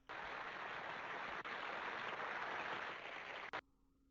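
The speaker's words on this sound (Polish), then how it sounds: "Serdeczne brawa!" Crowd applause at an outdoor ceremony with a military honor salute, a dense, even roar of many hands heard from a distance that holds steady, then cuts off abruptly near the end.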